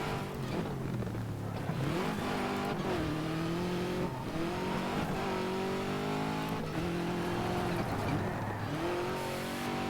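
A DiRT 2 rally car engine howls steadily, revving up and down through gear changes with rising and falling pitch, the racing drone constant and fairly close throughout.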